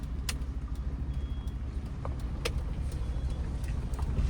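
A car moves off slowly as the clutch is eased out during a driving lesson, its engine a low steady rumble throughout, with a few faint clicks and rattles from the cabin and no talking.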